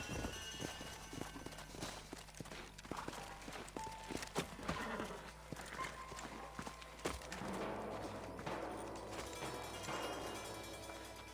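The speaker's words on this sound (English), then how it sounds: "Let's hold up a minute and find a spot for our horses." Horse hooves clip-clop across ground in Red Dead Redemption 2, a steady clatter of several mounts walking amid game ambience, with faint voices and clanking in the background.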